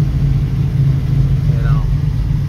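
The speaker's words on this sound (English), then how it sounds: "but at least the car idles now." A car engine fitted with a Holley carburetor idles with a steady, low rumble that holds an even tone throughout.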